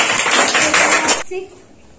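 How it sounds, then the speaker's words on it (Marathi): Schoolchildren in a classroom clap their hands in a dense, loud burst of about a second that stops abruptly, followed by a teacher talking. "बरोबर असेल तर टाळ्या वाजवा"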